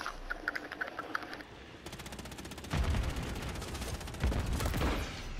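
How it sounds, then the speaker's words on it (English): Automatic gunfire in Call of Duty Modern Warfare 3, rapid continuous bursts of rattling shots with heavier booms mixed in, dense and loud throughout. "stop shooting me through the wall"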